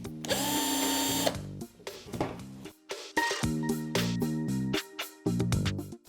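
A repaired cordless screwdriver is tested in screwing and unscrewing directions, its whining motor starting and stopping in repeated short bursts with changing pitch, up close with no talk.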